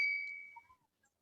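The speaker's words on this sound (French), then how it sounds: "veuillez cliquer sur la cloche de notification" Notification bell sound effect: a single bright ding that rings out clearly and decays over about half a second, followed by faint tinkling traces.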